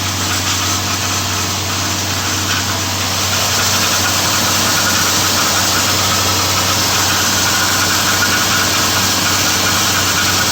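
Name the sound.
V8 car engine running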